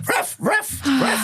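A dog gives three quick, close barks or yips in a row, fairly loud and sharp.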